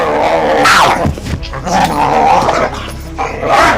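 A small, unruly puppy named Diego growls and snarls at close range in a harsh, continuous stream, with brief yips breaking through between rougher rumbling bursts.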